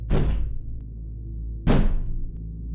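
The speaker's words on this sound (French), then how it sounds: "J'entendais toujours des bruits sur la porte du couloir, devenir de plus en plus violents à chaque impact" Violent banging on a hallway door: two heavy, booming thuds about one and a half seconds apart, each fading quickly over a steady low background rumble.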